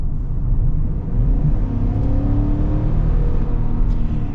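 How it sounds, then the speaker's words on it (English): A 2021 Chevy Suburban Z71 engine, heard from the cabin in sport mode, climbs in a steady low rising drone as the transmission holds a lower gear, loud and continuous with road whir beneath and no talking. "it just goes into a lower gear for you and it holds the gear a little bit longer"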